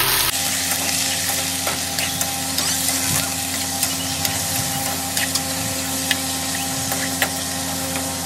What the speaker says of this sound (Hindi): चिकन अभी भुंजावा थे